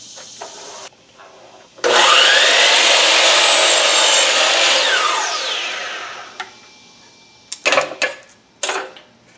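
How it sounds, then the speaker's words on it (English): Saw cutting about 1/8 inch off the end of a wooden pen-blank sizing jig piece: a loud, steady whining cut lasting several seconds that winds down, followed by a few close knocks and clatters of wood being handled. "I'm gonna cut about 1/8 of an inch off of the end"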